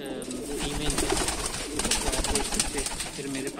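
Fancy lakka fantail pigeons cooing in a loft, repeated low throaty coos in close, rhythmic phrases with some background rustle and a voice talking nearby.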